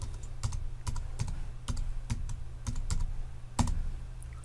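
Rapid keyboard typing on a computer while renaming a layer in image-editing software, a steady run of close, crisp keystrokes with a few sharper taps, no voices.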